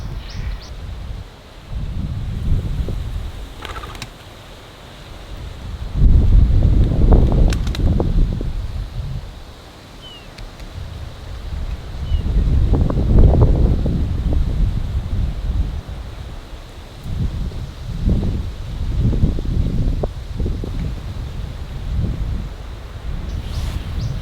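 Gusty wind buffets the microphone in heavy, rumbling bursts that swell and fade over time, with faint rustling in the background.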